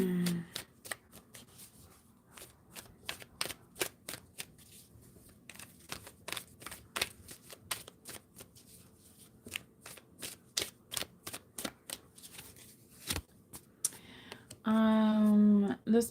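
Oracle cards are shuffled in rapid, crisp riffles and flicks close to the microphone, a steady run of soft snapping clicks with a brief voice near the end.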